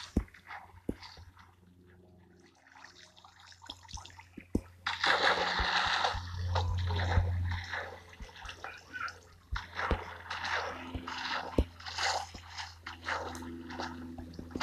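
Water splashes in the video game Minecraft, with bursts of splattering and dripping that rise suddenly midway and continue in uneven waves, mixed with scattered clicks and soft game sounds.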